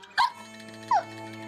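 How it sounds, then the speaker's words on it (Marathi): A woman hiccups twice, sharp abrupt gulps about 0.7 seconds apart, close and fairly loud over a faint steady hum. "3-4 लिटर पाणी प्यायले पण उचकी काही थांबत नाही"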